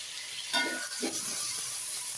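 Chopped tomatoes frying with softened onions in an oily pan for paneer biryani, a steady broad sizzle with two soft stirring scrapes early on, close and even, with no talk.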